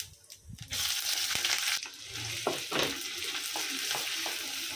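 Medium onion frying in hot oil with whole spices for green chicken, a bright continuous sizzle with stirring scrapes and clacks, close and fairly quiet.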